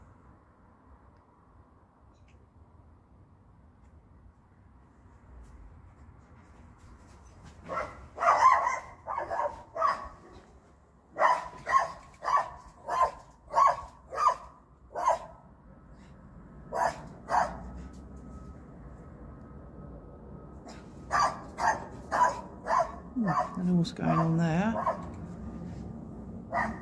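A neighbour's dog barks in repeated bursts of sharp, loud barks from a short distance away, with pauses in between, after a quiet opening, and a person speaks briefly.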